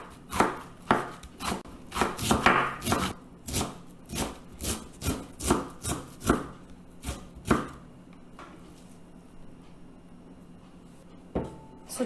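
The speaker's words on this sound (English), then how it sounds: "I am slicing them thinly." Knife slicing Malabar spinach leaves thinly on a board, a close, steady run of crisp chops in quick rhythm, then a pause and a couple of faint final cuts.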